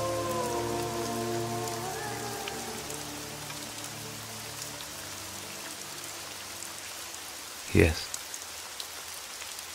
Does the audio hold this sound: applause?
no